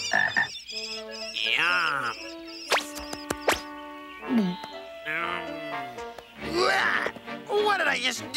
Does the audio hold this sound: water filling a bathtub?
no